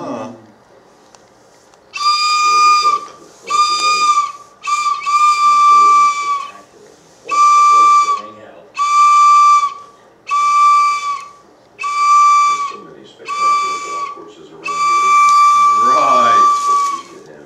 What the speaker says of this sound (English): I love blowing that.